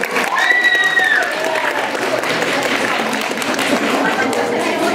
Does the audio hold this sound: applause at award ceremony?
yes